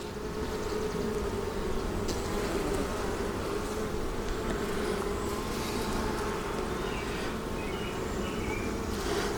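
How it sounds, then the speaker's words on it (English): Honey bees buzz softly inside a nuc box with only a few bees present. The hum is steady and faint and carries on without talk. "There's very, very few bees in here"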